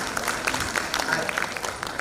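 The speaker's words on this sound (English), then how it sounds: "A round of applause for the session, please." A conference audience at an inclusivity event applauds the end of a session. The clapping is moderately dense and steady, with a faint murmur of voices underneath.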